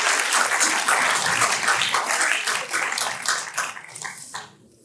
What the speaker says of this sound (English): Ladies and gentlemen, give him a round of applause for being so honest.